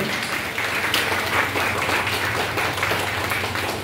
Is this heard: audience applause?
yes